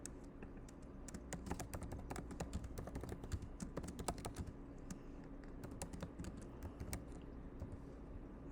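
Rapid, continuous typing on a computer keyboard, close and clear, with dense irregular key clicks and the odd louder keystroke throughout and no voice over it.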